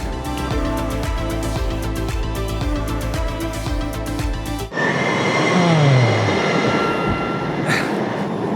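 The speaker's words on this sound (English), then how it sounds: "Just missed my train." A Green Line subway train rumbles loudly through the station with rhythmic wheel clatter, then the sound shifts as the train pulls away with a rising whine and squeal of brakes and motors close by.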